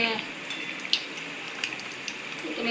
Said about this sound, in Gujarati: આપણા ધીમા ગેસે સમોસા તળવાનું કામકાજ ચાલુ થઈ ગયું છે